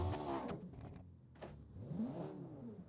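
A supercar engine in the video game Automation revs, rising and falling through several quick throttle blips with sweeping pitch changes, moderately loud and close.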